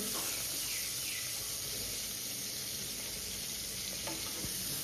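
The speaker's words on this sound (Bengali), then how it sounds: "ফুলকপিটা আমি হালকা ভাজবো।" Cauliflower frying in hot oil for vegetable biryani makes a dense, steady hiss of sizzling that holds evenly throughout, with a faint stir or tap near the end and no voices.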